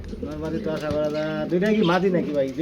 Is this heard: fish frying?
no